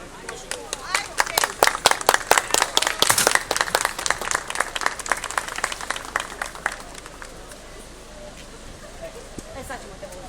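An audience gives a round of applause at a first aid day event, many hands clapping briskly and close, swelling then thinning out, with some talking under it.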